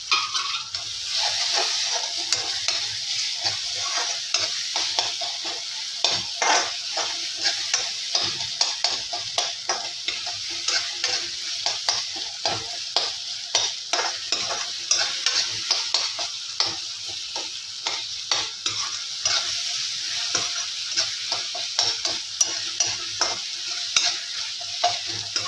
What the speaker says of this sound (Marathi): टोमॅटो सुद्धा छान तेलामध्ये परतून झाला की आपण